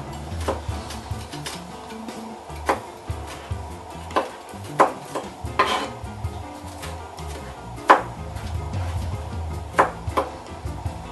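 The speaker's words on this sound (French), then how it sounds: "Votre gousse d'ail, vous la coupez plus finement selon la productrice." A knife chops a garlic clove finely by hand on a board, irregular sharp taps close by at a quiet level, spaced clicks repeating for several seconds with no one talking.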